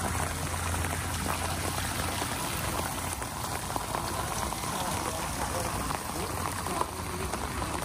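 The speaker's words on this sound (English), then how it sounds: "it's definitely just raining at this point" Steady rain falls on a Tennessee tourist-town street in winter, a dense, continuous hiss and patter of drops close by, with faint voices mixed in.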